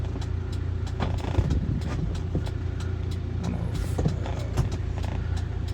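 A lifted 1994 Nissan Atlas 4x4 truck with a 5-speed manual and 31-inch all-terrain tyres drives steadily, its engine and road noise a continuous close drone with a few brief bumps and clunks.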